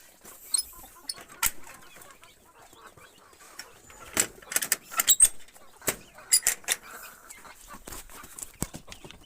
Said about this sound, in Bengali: আরও মুরগি আছে।